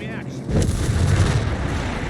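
A 17-pounder gun fires in a Company of Heroes 3 battle, one heavy booming blast followed by a rumbling wash of battlefield noise, close and loud.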